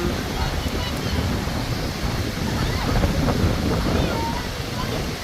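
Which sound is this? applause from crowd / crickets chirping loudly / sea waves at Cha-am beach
sea waves at Cha-am beach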